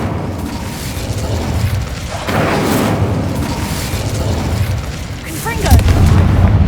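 An Incendio fire spell is cast in Hogwarts Legacy, producing loud booming, crackling bursts and rumbling impacts that continue throughout, with a heavier blast near the end.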